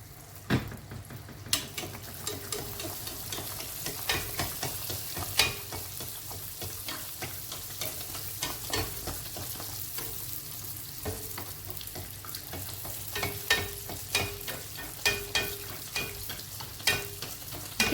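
Sfenj, traditional Kabyle semolina doughnuts, frying in hot oil with a steady soft sizzle, scattered pops and occasional stirring or utensil clicks throughout.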